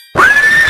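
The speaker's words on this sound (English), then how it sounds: "horse," A single horse whinny rises sharply after a brief silence, a loud, bright neigh holding steady to the end with no talk around it.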